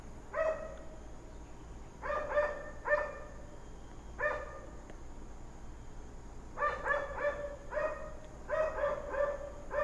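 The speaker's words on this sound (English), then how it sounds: "The dogs." Dogs bark in short clusters of two or three sharp yaps, separated by pauses, somewhat distant and fairly faint over a low background hum, with no speech.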